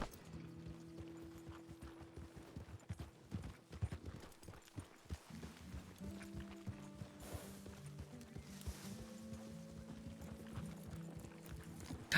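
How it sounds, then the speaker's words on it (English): A horse in a Western roleplay game clip-clops along in a rhythmic, moderately close walking gait. Tonal musical chimes and a soft mechanical rattle play underneath. "God, that horse is really pretty"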